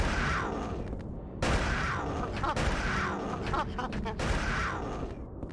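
Bursts of gunfire from the video game Silent Hill 4: The Room crack through a dense, noisy soundscape, with several sharp shots spaced across a few seconds amid constant loud rumble.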